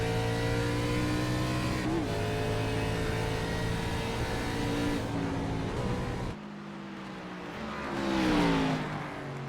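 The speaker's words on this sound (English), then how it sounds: "engine sounds fine" A video game race car engine on the Charlotte Roval road course drones loudly and steadily with layered harmonic tones, dropping off briefly then revving back up near the end.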